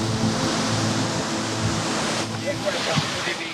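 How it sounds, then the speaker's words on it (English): Ocean surf and heavy Indian Ocean swell at Kuta beach, Bali, make a loud, steady broadband roar that fills the whole stretch, with wave wash rising and falling as a voice talks over it. "the powerful swell pushing deep from the Indian Ocean"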